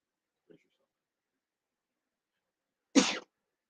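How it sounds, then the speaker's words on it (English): A single sharp sneeze bursts out after a brief faint sound and near silence, close and fairly loud. "I have to sneeze."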